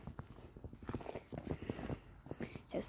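Horse hooves clip-clop on an arena surface during a dressage session at riding training, steady rhythmic footfalls close by under continuous background talk and ambient noise.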